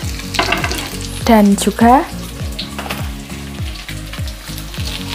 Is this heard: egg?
yes